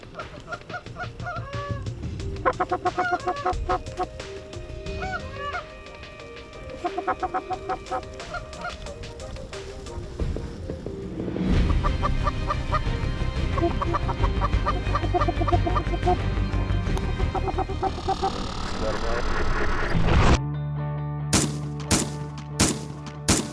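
Flock of Canada geese honking repeatedly and loudly as they fly over an early-season goose hunt in Michigan, the calls overlapping continuously, with a few sharp cracks near the end.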